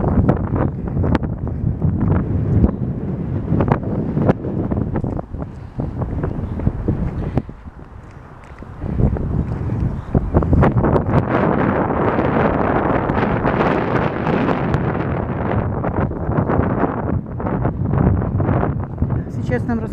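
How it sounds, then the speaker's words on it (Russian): Gusty wind near the Pirita River and St. Bridget's Convent rumbles loudly against the microphone, easing briefly midway before surging back, while a voice talks throughout. "Ой, какой ветер."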